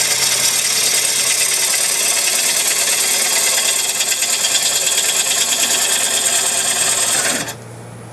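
Wood lathe turning a figured bowl, a steady loud rasping, scraping cut with a continuous motor whine running for several seconds, then the cutting stops abruptly and only a quieter motor hum remains.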